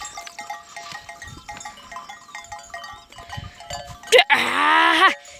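Sheep and lambs bleat loudly near the end, a single strong drawn-out call following quieter mixed farm sounds and faint bleats, with no talking.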